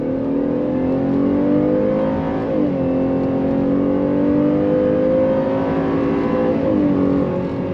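A 2023 Chevrolet Traverse RS SUV accelerating under throttle, its engine note rising steadily with two brief dips as gears shift, heard from inside the cabin as a loud continuous drone without talk.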